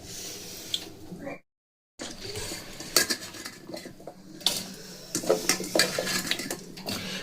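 Washed sona moong lentils and chopped onions are tipped into a pressure cooker, metal pans clanking and utensils scraping in sharp, irregular knocks with a brief silent gap.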